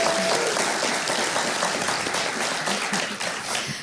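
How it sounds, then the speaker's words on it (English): An audience at a security conference panel applauds steadily, a dense crowd of clapping hands at an even, fairly loud level throughout. "Please give a round of applause to our amazing panelist and panel moderator."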